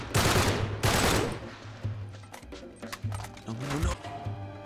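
Gunfire in Uncharted 3: Drake's Deception, with two loud bursts of shots up front and then scattered, quieter cracks and clanks of game action.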